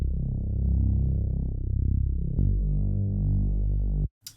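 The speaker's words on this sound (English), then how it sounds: "And then I have the same bass from before." Sustained synth bass line from a Christmas pop song production, playing alone with a steady, full low tone and a brief change midway before cutting off abruptly near the end.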